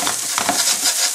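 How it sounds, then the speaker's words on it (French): Half an onion frying in a tablespoon of oil in a wok over high heat, with steady bright sizzling and faint stirring scrapes running throughout, close and fairly loud. "On a mis une cuillère à soupe d'huile, le wok est à feu vif, c'est parti."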